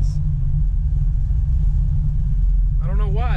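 A running LS-swapped Camaro engine with an aggressive cam rumbles low and steady throughout, close and loud, with a voice speaking briefly near the end.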